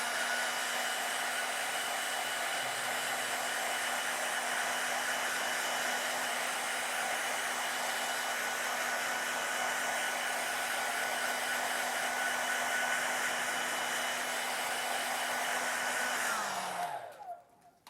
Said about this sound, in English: I'm going to use a hairdryer just to dry that really quickly so I can put a second coat on.